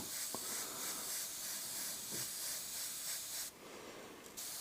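An airbrush sprays paint onto a monochrome portrait in a continuous soft, faint hiss that drops slightly near the end, with no voices.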